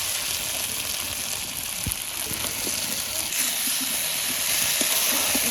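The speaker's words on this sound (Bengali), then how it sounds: "এখন ভাজা আলুগুলো দিয়ে দেবো।" Fried potatoes hit a pan of sizzling meat curry, giving a steady loud frying hiss with faint stirring taps throughout and no talking.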